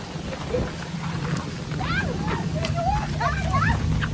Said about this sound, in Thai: ไปไปฝนตกด้วย